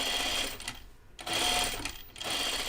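A sewing machine runs a seam on crisp linen for a 1940s-style dress, stitching in short quick bursts with a brief pause between them, close and clear.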